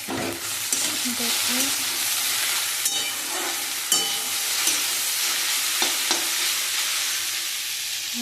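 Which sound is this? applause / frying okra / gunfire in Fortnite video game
frying okra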